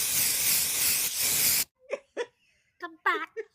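Shark repellent bat spray from the 1966 Batman series lets out a loud, steady hiss for about a second and a half, then cuts off abruptly, followed by short whimpering, giggling vocal sounds.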